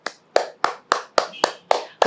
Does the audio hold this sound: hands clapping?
yes